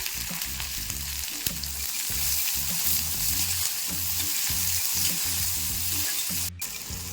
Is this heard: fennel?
yes